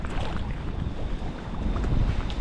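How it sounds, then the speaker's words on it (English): Strong wind gusting at night by the sea on the New Jersey saltwater shore, a continuous rough roar buffeting the microphone and swelling toward the end, with no talk. "Wind is still picking up pretty good. That's those 24 mile per hour gusts they were talking about."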